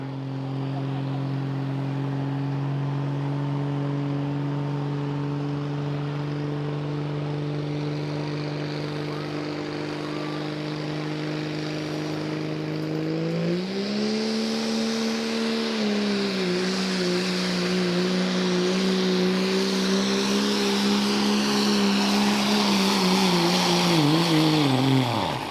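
Kurt Smalley's Boosted Pleasure pickup truck, a Dodge, roars steadily at a truck pull in Rockwell, Iowa, holding a loud sustained drone before the revs rise and waver as the load builds toward the end.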